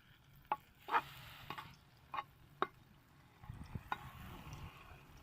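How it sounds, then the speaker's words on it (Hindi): Pistachios and almonds lightly frying in ghee in a pan, with soft crackles and sizzles. A few sharp stirring clinks sound over a quiet hiss, and a low rumble comes in near the end. "इसमें पिस्ता बादाम जो है हल्का हल्का फ्राई करेंगे।"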